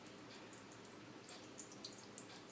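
Water poured gently over fermented cherry tomato seeds, a soft, faint, continuous trickle with a few light splashy drips, heard alone.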